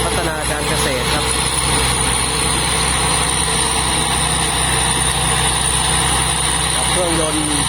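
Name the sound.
combine harvester engine running, JO8C 260 turbo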